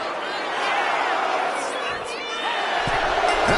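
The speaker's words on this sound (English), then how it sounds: "Berto is revving this crowd up." A WWE 2K25 arena crowd during an Intercontinental Championship tournament match roars steadily and loudly throughout. Commentary speech runs over the noise.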